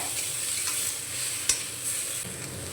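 Chopped tomato sizzles steadily in a hot pan while it is stirred, with one sharp utensil knock against the pan partway through and no talking.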